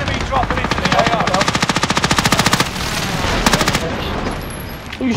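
Rapid automatic gunfire in a video game shooter, long close bursts of machine-gun shots in quick even rhythm, with brief pauses and game noise around them.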